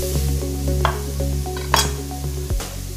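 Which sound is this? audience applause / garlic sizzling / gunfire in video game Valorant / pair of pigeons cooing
garlic sizzling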